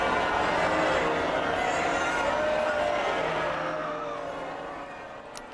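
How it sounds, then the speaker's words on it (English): A British crowd boos the Prime Minister and his wife as they leave a Jubilee church service, a broad, distant roar of jeering voices that slowly fades away. "That's the British public booing as the Prime Minister and his wife left a special Jubilee church service on Saturday this weekend"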